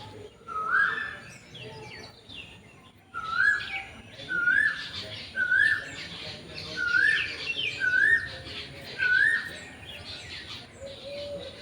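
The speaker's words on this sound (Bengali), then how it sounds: "শোনাই কত সুন্দর আছে কোকিল ডাকছে।" An Asian koel (kokil cuckoo) calls repeatedly outdoors, about seven clear rising whistled notes in a steady rhythm, moderately close, over a busy background of other birds and faint household noise.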